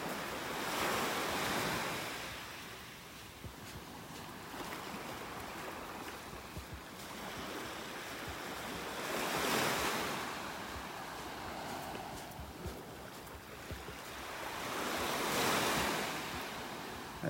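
Surf washes onto a beach in North Naples, Florida, with waves swelling and breaking in slow surges every several seconds over steady wind and water hiss.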